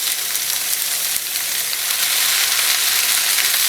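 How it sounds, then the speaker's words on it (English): Beet greens with garlic sauté in oil in a pan with a bright, steady hiss that is fairly loud and unbroken, with no voices over it. "You need to toss the beet greens fairly frequently so that they wilt evenly"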